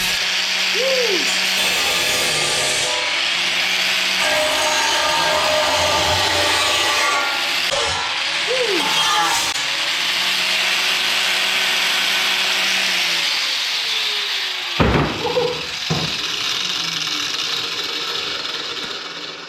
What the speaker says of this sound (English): I just have an angle grinder and a vise to put it into.